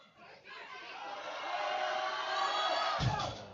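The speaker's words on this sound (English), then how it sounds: "Crowd is getting excited on second deadlifts already." Crowd at a powerlifting meet cheering and whooping during a deadlift attempt at a national open competition, a sustained, swelling roar of voices with a sharp thump near the end.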